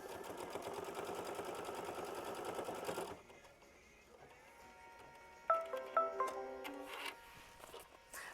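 A sewing machine stitches a flower bouquet quilt block, its rapid buzzing run lasting about three seconds before stopping, followed by quieter handling sounds and a few sharp clicks.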